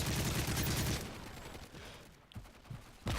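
Dense automatic gunfire bursts loudly in the Modern Warfare 3 video game at first, then drops to sparse, more distant shots and brief cracks.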